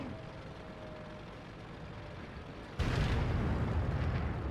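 Artillery fire in World of Tanks, a low rumbling battlefield ambience broken by a sudden heavy blast that leaves a loud, sustained roar afterward.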